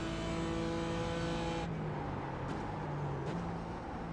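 A BMW M4 race car engine in the iRacing simulator holds a steady high drone, then drops to a lower, rougher note with faint shifts in pitch, heard alone without talk.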